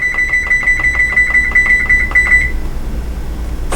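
A kitchen clock timer beeps in a rapid, steady train of bright, evenly spaced pulses that runs for about two and a half seconds and then stops, with faint room noise underneath.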